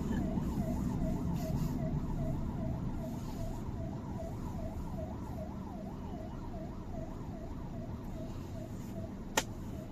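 An ambulance siren wails in a steady, regularly rising and falling pattern, heard from a car on a road over low traffic rumble. It stays moderately loud throughout, with a sharp click near the end and no talk.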